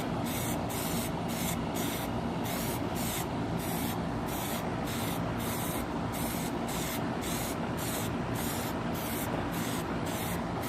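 A continuous close aerosol hiss as a can sprays Plasti Dip onto car tail lights outdoors in wind, steadily for the whole stretch, with faint rhythmic pulsing in the upper range.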